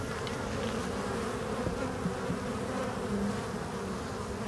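Honey bees swarm and buzz steadily around a freshly closed hive, a dense, continuous drone of many insects close by, with no talking.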